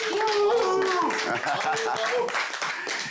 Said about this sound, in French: on lui fait un grand tonnerre d'applaudissements